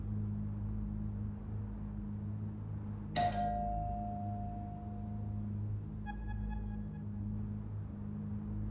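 A doorbell chimes once inside the found-footage horror game Teleforum, a bright tone that rings out and fades over a low steady hum, followed a few seconds later by a softer second chime.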